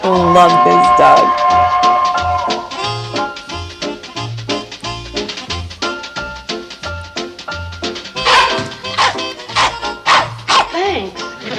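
A dog yips and barks in short bursts through a busy mix of television music and voices, the calls repeating quickly and sitting close but partly buried under the soundtrack.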